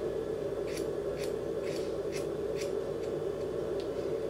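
Scissors snipping through hair extensions in a steady series of about eight crisp, evenly spaced cuts over a constant background hum.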